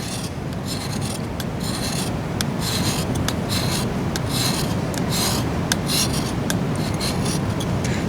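A ferrocerium rod scraped to raise shavings makes a continuous close rasping sound, with loud, rapid strokes repeating steadily throughout and no talking.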